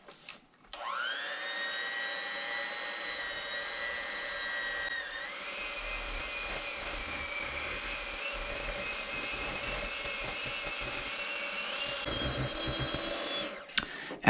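Electric beaters whir steadily through a frozen eggnog ice cream mixture, a loud, continuous motor whine that shifts pitch slightly partway and cuts off near the end, with no talking.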